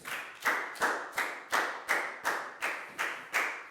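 Classroom of Year 4 children giving a round of applause, heard as about nine evenly spaced, sharp claps in a steady rhythm, close and clear with no talking.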